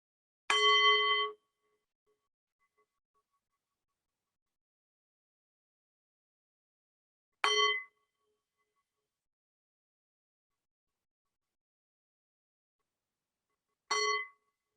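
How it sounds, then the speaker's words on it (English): Three meditation bells struck one at a time, each a clear ringing tone that fades out, spaced about seven seconds apart in otherwise complete silence. "we'll begin with 3 bells."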